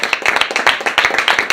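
Audience at a direct-selling networking event bursting into steady, energetic clapping to welcome a woman guest, dense overlapping handclaps filling the room without pause.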